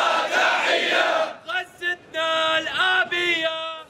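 University students chant together at a street protest in Nineveh, Mosul, first a dense crowd roar, then a clear rhythmic group chant in short repeated phrases, loud and near.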